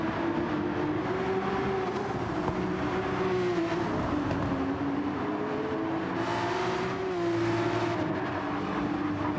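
Race cars circle Laguna Seca in a racing video game league race, a continuous loud engine drone with a steady pitch that rises and falls as the cars shift and pass.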